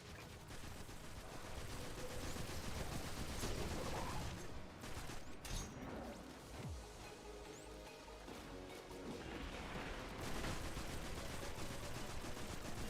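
Continuous rapid gunfire from the video game Destiny 2 as a player shoots Vex constructs, dense bursts of shots blending into a steady loud barrage with a few heavier impacts, no talking.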